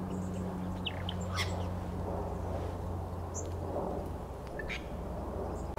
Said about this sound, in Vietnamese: Trên đây nhiều chim nhỏ nhỏ nè, nó hót.